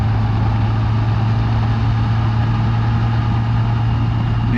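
Car engine droning steadily at a low hum while driving a winding mountain road on Wimer Mountain on a clear day, continuous and close with no talking.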